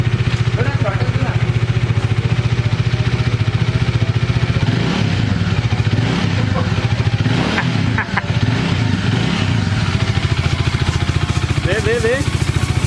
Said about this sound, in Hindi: ऐसा लगता है कोई सुपर बाइक खड़ा है, सुपर बाइक का आवाज है।